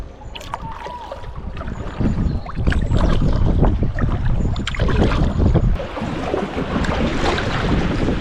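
Canoe being paddled on open water, with sloshing strokes and splashes over steady wind and surf noise, growing louder and rougher partway through, no voices.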